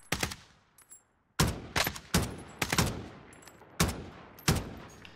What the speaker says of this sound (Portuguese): Quem tá atirando em mim?